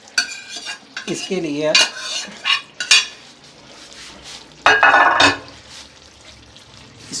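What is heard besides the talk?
stirring chicken, potatoes and fried cauliflower in pan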